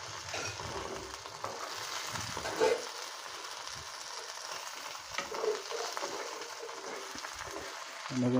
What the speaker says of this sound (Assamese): এতিয়া দেখি আছে এইটো অলপ ফ্ৰাই হৈছে